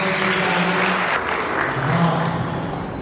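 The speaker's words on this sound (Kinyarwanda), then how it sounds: "ndizera neza ko mubaha amashyi" Guests at a Rwandan wedding reception applaud in a continuous, moderately loud patter, with some background music or voices under the clapping.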